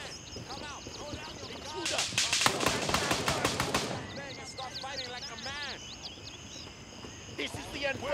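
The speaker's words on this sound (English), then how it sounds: "Oh, he's shooting, I think." An enemy fires on the player in the video game Gray Zone Warfare, with a rapid burst of automatic gunfire and scattered shots at moderate distance, while players talk over it.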